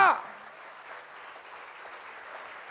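A church congregation gives faint, distant applause during a sermon. A brief voice opens the moment, then soft, diffuse clapping continues for a couple of seconds.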